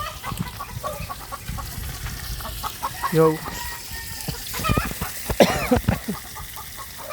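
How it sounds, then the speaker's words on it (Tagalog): A chicken clucks repeatedly nearby in short, noisy bursts, with a louder squawking call near the end and a brief spoken word early on. "Ingay talaga ng manok na to"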